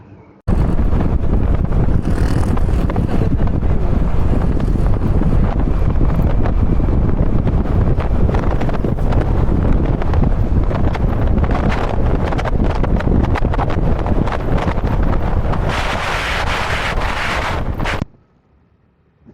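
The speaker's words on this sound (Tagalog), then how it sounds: "medyo malakas-lakas na konting hangin dito." Strong wind buffets the microphone at a hillside wind farm in Pililla, Rizal, a loud, continuous roaring rumble that holds for most of the stretch before suddenly cutting out near the end, with no talk.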